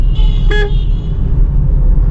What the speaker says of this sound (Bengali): হর্ন দিলাম দেখুন